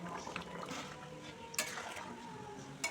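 Moong dal cooked with a fish head is stirred in a pot, a soft wet churning with a couple of sharp clinks of the spoon against the rim, close and quiet, without speech.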